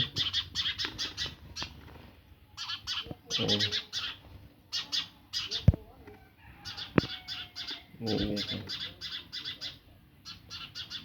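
Farm birds and chicks call loudly in repeated bursts of high chirps and tweets, with scattered louder calls and occasional knocks in a busy poultry shed where sparrow chicks have hatched.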